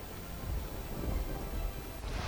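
Steady heavy rain roars in Lath village, Upleta taluka, Rajkot, Gujarat, with a deep, rumbling thunder-like undertone throughout, dense and continuous with no voices.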